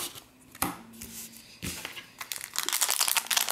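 A Naruto trading card booster pack from a US set is torn open, giving sharp crinkling foil rips in two short bursts followed by a longer stretch of rustling, close and fairly loud with no talking.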